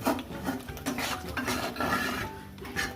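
Prawn malai curry with coconut milk being stirred in a pan, rough rasping scrapes of a utensil against the pan bottom in uneven strokes, close and fairly loud, with no talking.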